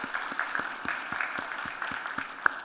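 Light applause from a modest church congregation during a worship service, steady clapping with individual claps audible, moderately close and continuing throughout.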